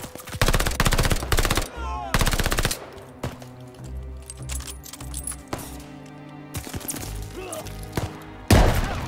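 Gunfire in the Call of Duty: Vanguard campaign: loud bursts of rapid automatic fire break off and start again, with quieter shots and clatter between them and a voice faintly underneath.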